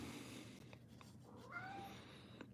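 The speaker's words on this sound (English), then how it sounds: "My cats are funny." Cat meows from a household pet, several short calls with a longer rising meow in the middle, moderately close against a steady background hiss.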